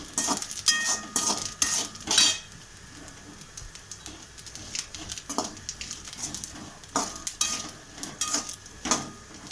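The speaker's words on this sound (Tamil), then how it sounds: "இதை அப்பப்போ இந்த மாதிரி கலக்கி விட்ருங்க, இல்லைன்னா வந்து அடி பிடிக்கும்." Jackfruit cooking in ghee in a pan for chakka payasam, stirred now and then with a utensil: repeated scraping and clinking strokes over a soft, steady background sizzle, close and fairly loud, with no talking.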